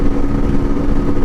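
A Sinnis Terrain 125cc motorcycle engine drones at about 8,500 rpm at 60 mph, a steady, loud, buzzing hum that holds evenly throughout without rising or falling.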